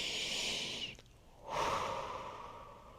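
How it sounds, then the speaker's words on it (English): A deep breath, with a long close inhale followed by a brief pause and then a slow, audible exhale trailing off. "Take a deep breath."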